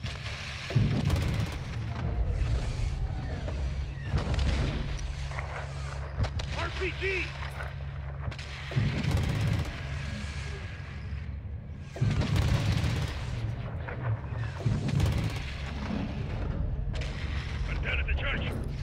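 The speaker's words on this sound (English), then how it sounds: "Shadow 1, we're taking RPG fire from the east." Heavy gunfire and RPG explosions from a Call of Duty: Modern Warfare 2 gunship mission, loud repeated booming bursts over a constant low rumble, with radio chatter mixed in.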